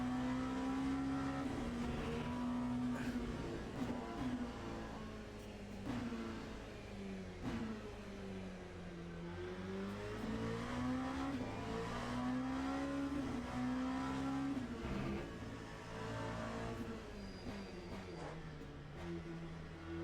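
An LMP2 race car engine in the Le Mans Ultimate VR racing game, revving up and down through gear changes with a rising and falling whine, heard alone without talk.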